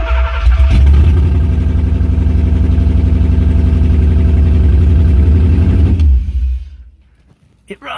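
A tan Porsche 928 engine runs loud and steady at idle after its first start in over 15 years, a continuous low rumble that holds for about six seconds before cutting off into near silence.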